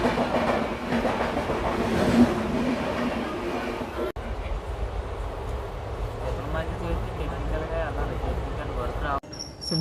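The Gurudev Express train rumbles steadily past close by, a continuous rushing roar with faint rhythmic clatter of wheels, voices murmuring underneath.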